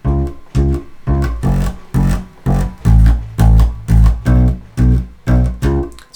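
Bass guitar plays a baião groove with an added third note, a steady, loud run of deep plucked notes in a syncopated repeating pattern filling the whole stretch.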